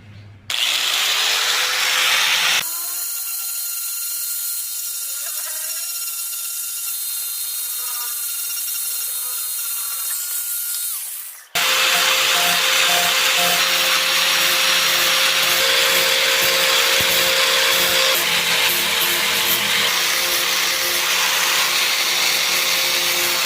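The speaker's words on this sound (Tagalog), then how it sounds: "gamit lang tayo ng grinder na may bala ng liha." A loud, continuous whine of a power grinder with a sandpaper disc runs for several seconds, cuts briefly, then resumes with a harsher, grittier sanding roar on a matte black motorcycle fairing.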